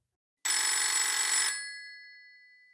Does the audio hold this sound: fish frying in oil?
no